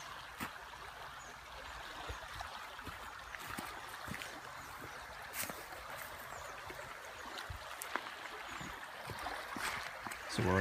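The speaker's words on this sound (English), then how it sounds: "This is the river." The James River runs high and murky after heavy rain, giving a steady, close broadband rush of flowing water that holds unbroken for the whole stretch with a few small splashy peaks.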